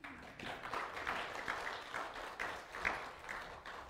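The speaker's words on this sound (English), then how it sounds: "Would you guys give a round of applause to our worship team?" A church congregation gives the worship team a short round of applause after prayer, a soft, distant patter of many hands with no voices.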